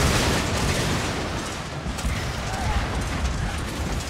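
Battle din from a Total War video game: a dense, continuous wash of explosions, gunfire and rumbling chaos, loud and unbroken from start to finish.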